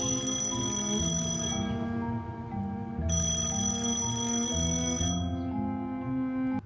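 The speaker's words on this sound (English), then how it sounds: "Phone is ringing." A telephone rings in the detective video game Penelope Pendrick: loud, steady electronic ringing in two long bursts with a brief gap between them, heard alone.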